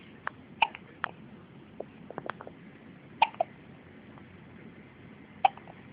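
A young boy hiccups four times at uneven intervals, each one a quick, sharp little catch, with faint rustling and soft clicks between them; no talking.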